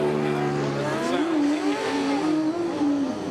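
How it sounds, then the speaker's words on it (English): A Formula Student race car screams past at close range at a UK competition, its high engine note rising and shifting pitch as it approaches and goes by, loud and alone. "just enjoy this sound on Cops Bank as it comes past you, because it's one of the best sounding cars for ages"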